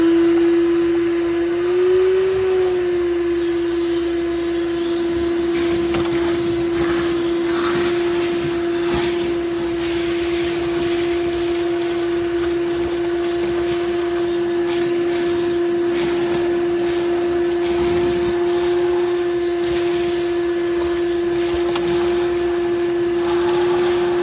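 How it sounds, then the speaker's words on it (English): A vacuum cleaner hums steadily and loudly for the whole stretch, cleaning out the spare tire wheel well in the trunk of a 1956 Chevy Bel-Air barn find, with a constant tone and occasional shifts in suction noise. "While vacuuming out the spare tire wheel well"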